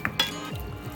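A spoon clinks against the pot twice in quick succession while instant-pot ven pongal with roasted cashews is mixed, followed by quieter scraping and stirring, faint and close.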